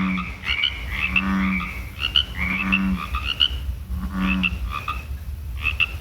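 A bullfrog croaks in repeated deep, droning calls near a Pacific Northwest campground, each call a resonant low groan lasting about a second, set against a steady outdoor background with chirping sounds.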